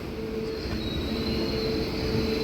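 Inside the Cocanada Express, a passenger train slowing as it nears Rayanapadu station gives a steady rumble with a faint, sustained wheel squeal.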